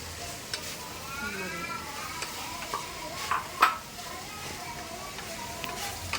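Curry leaves and ginger-garlic paste sauté in a pan for beef vindaloo, giving a soft continuous sizzle with occasional stirring scrapes, while a voice talks quietly over it.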